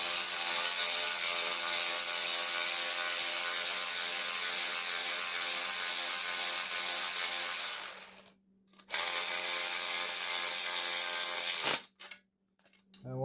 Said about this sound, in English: Got my 10mm here. We're going to put that on it and we'll tighten this up.